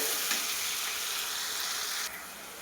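Onions sizzle and fry steadily in hot oil for a beef curry, a dense continuous hiss that briefly swells, then drops slightly in brightness near the end; no voices.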